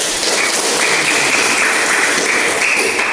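Classroom applause for a student's answer during a biology lesson on mosses and ferns: a dense, steady wash of many hands clapping together, loud and continuous throughout with no voices on top.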